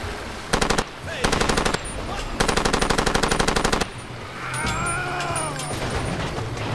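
Machine-gun bursts ring out while driving in Far Cry 2, three loud rapid strings of shots separated by short gaps, followed by a rumbling vehicle engine with a whining, sweeping tone.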